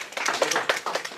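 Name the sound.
audience clapping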